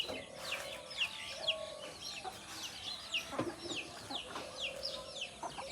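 Chickens cluck and chatter in short repeated calls, some near and some farther off, with faint background activity.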